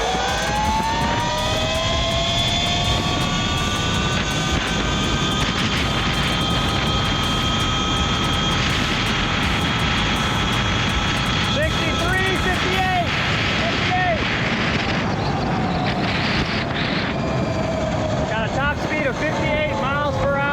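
An E Ride Pro SS 3.0 electric motorbike makes a top speed run on a closed course in Mexico, its motor whine climbing steadily in pitch under strong wind roar, with a rider talking over it.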